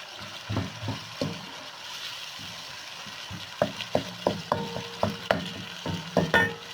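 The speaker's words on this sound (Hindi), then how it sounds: "साथ ही इसमें डाल दूंगी मैं कीमा। फिर से इसको कर लेंगे मिक्स ताकि इसकी गुठलियाँ ना बने" Minced meat is stirred into frying masala in a pan, with a faint sizzle under a run of distinct scraping and clacking spatula strokes that start sparse, pause, then come quicker and louder.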